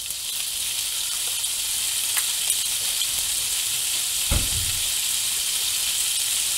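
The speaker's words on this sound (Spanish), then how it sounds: "en una sartén con un buen chorro de aceite de oliva, añadimos primero el bacon" Bacon frying in a pan with a generous splash of olive oil, a steady close sizzle and hiss running throughout with a few soft crackles and one brief low clatter near the end, no voices.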